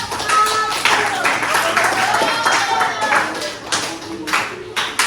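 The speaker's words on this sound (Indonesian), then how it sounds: "tepuk tangan buat kelompok 1" Students in a classroom clap for a group during a lesson on the kidneys, a close, uneven round of individual hand claps with some voices mixed in.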